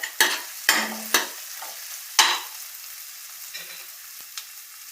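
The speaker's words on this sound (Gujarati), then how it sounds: "આપણે 2 મિનિટ માટે સાતળવા દેશું" Crushed ginger and spices sautéing in a pan, quiet sizzling broken by several sharp spoon strikes and scrapes against the pan, alone without talk.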